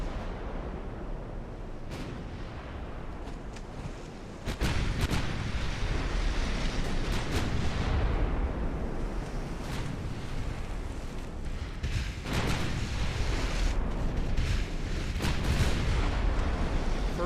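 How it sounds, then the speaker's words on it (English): Heavy naval gunfire in Ultimate Admiral Dreadnoughts, battleships loosing armor-piercing salvos: deep rumbling broadside booms with a sudden loud onset, sustained roar and repeated blasts over a windy, sea-like wash. "Bring all guns to bear. Fire AP, please."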